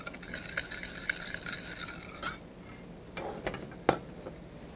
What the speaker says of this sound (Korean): 마늘파 다진 거 넣으시고 잘 저어서 준비하도록 하겠습니다.